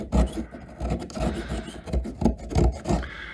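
A blade scrapes and rasps against the rough cut edge of a PVC pipe in short, gentle strokes, a close series of dry rubbing passes heard alone.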